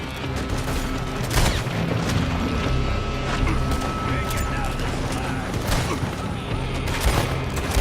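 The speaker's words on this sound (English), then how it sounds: "They're shooting from that building." Gunfire rattles out of a building in the Red Dead Redemption 2 video game, as loud continuous volleys of shots and booms over a dense roar, with brief voices mixed in.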